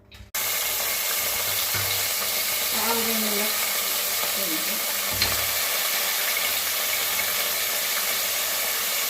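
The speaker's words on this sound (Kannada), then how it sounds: "ಈಗ ಮಸಾಲೆ ಇವಾಗ ಫ್ರೈ ಮಾಡ್ಕೊಳ್ಳೋಣ" Masala frying in a couple of spoons of oil for goat leg soup gives a steady, dense sizzle that hisses continuously from start to end, with faint stirring knocks underneath.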